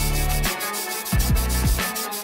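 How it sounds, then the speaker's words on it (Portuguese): A small spatula scrapes solid makeup into loose powder, giving a steady rubbing, grating texture broken by a few short scraping strokes near the end, close and clear with no talking. "Com ela vou raspar assim. Quero que forme um pó."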